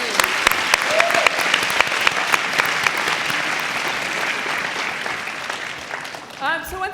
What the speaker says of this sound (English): How about one more round of applause for all of the teams?